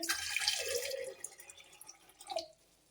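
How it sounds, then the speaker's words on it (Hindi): Water is poured into vinegar in a glass while a homemade glass cleaner is being mixed. A close, trickling pour runs for about a second, thins into a few drips, and ends with a brief final splash. "बिल्कुल आधा गिलास अब हम इसमें पानी डालेंगे"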